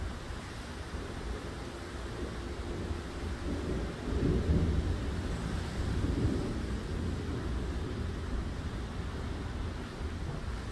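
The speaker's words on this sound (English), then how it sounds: "You can hear the thunder." Deep, rolling thunder rumbles through a severe summer thunderstorm with strong wind near Chestermere, Alberta, swelling loudest mid-way and sustained over a steady roar of wind and rain, with no voices.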